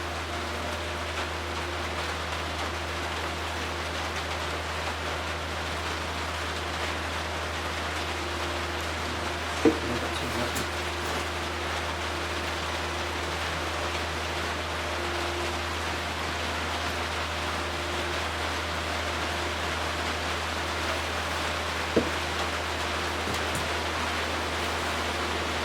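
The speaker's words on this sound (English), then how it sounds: "if I waited for it to stop raining" Rain falls steadily outdoors as an even, unbroken hiss with a faint low hum beneath it and two brief soft knocks along the way.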